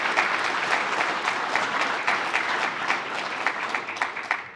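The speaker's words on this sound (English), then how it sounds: "So why don't you guys give yourselves a round of applause just for even being here." An audience at a university football commencement applauds, a dense burst of clapping that carries steadily and fairly loud before tapering off at the end.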